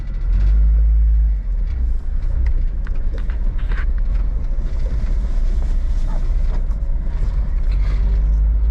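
Interior engine drone and road noise from a Honda kei car being driven, a steady low rumble with a brief dip in level early on, continuous and fairly loud throughout.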